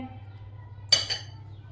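A metal sieve is set down into a pan of oil for frying okra, giving a bright metallic clink followed by a second, softer clatter, close by over a steady low hum.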